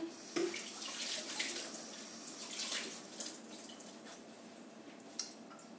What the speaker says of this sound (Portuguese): Deixa eu lavar minhas mãos bem rapidinho.